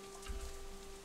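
Steady rain falling on rain-drenched streets in the visual novel game Katawa Shoujo, a soft continuous patter with a faint low rumble, quiet and even throughout.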